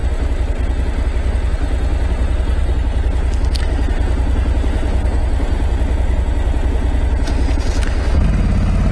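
A Honda NC 700 motorcycle sits idling at a traffic light, a steady low throbbing engine rumble that stays close and even throughout, with a few faint clicks and a slight shift near the end.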